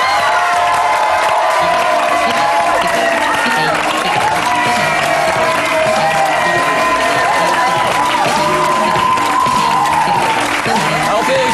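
A loud, excited studio crowd claps, cheers and whoops for a rapper at a television show, sustained throughout with shouting voices and squeals blended into the dense applause.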